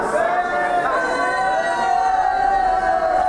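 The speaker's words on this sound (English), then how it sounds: "Crowd not liking that." Wrestling crowd at a PWU Takedown TV event reacting with sustained, dense disapproval, a steady roar of many voices with no clear breaks.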